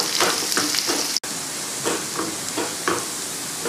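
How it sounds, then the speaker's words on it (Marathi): Onions frying in a pan for a raw mango curry, a steady close sizzle with crackling and stirring scrapes, one brief dropout midway. "आता आपले कांदे तळून झाले आहे,"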